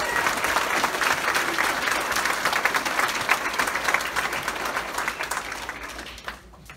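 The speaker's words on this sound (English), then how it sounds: "Let's all give them a round of applause and wish them the best." An elementary school audience claps for departing staff, the dense, steady clapping sustained before fading out near the end.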